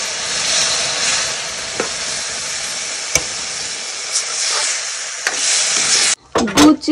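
Milk stirred in a cooking pan over low heat, a continuous soft hiss and sizzle with occasional spoon taps against the pan, then a few sharper clatters near the end.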